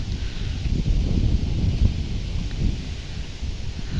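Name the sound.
wind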